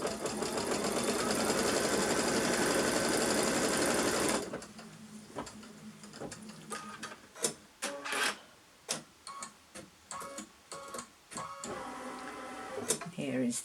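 A sewing machine stitches and tacks down quilt strips in a stitch-and-flip method, running in a loud steady whir for about four seconds, then falling to sparse clicks and taps from handling the fabric.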